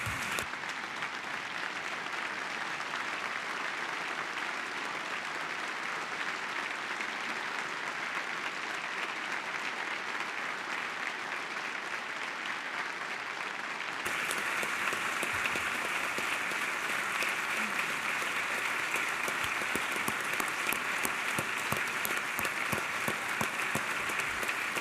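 An audience at the Georgia State of the State address applauds at length, a continuous dense clapping that swells louder partway through and keeps going without speech.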